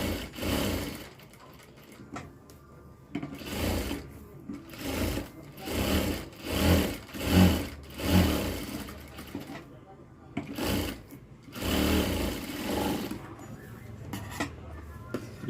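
A sewing machine stitches a blouse lining in repeated short runs, a close low whirring hum that starts and stops in pulses, with a voice talking between the bursts.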